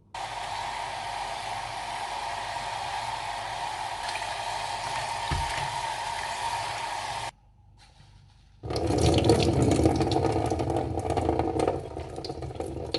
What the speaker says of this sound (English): now we have to wash the leaves of the stinging nettles